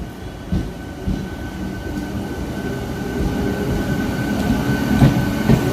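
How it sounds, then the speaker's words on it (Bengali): A 10-car local train pulling into a railway platform, with a steady rumble of wheels and carriages, rhythmic clicks over the rail joints, and a rising roar as it draws closer. No one speaks. "প্ল্যাটফর্মে একটা লোকাল ট্রেন ঢুকছে"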